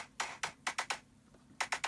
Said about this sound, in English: like small kick with a little bit verb and noise